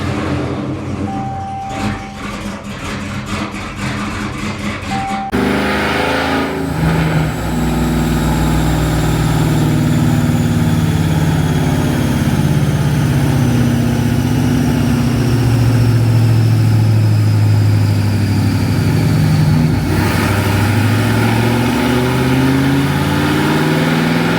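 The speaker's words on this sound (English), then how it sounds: "I'm going to go ahead and turn it on and then we'll see how it runs" A Dodge Scat Pack with a fresh base tune cranks and fires up, then settles into a loud, steady, rumbling idle close by, with low engine tones drifting up and down and a brief bump near the end.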